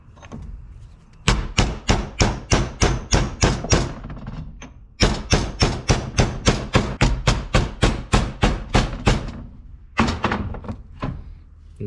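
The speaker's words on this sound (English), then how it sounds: "Just hammer it the rest of the way back in." Rapid, steady hammer blows on a metal pin being driven into a differential locker on a Jeep Wrangler JK, about two strikes per second, in two long runs with a short pause between and a few final taps.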